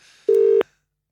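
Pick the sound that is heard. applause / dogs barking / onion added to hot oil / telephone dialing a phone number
telephone dialing a phone number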